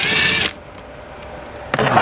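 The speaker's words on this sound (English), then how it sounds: "So for this bolt, you're gonna use a T20." A powered T20 driver whirs loudly as it removes a bolt from the blower motor on a BMW F10, two short close bursts separated by a brief quiet pause.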